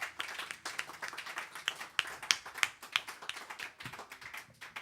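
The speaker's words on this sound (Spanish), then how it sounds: "Da un aplauso fuerte a Dios en esta mañana." Clapping from a congregation during a church service, a scattered, uneven patter of hands with a few sharper claps standing out, moderately quiet and with no talk.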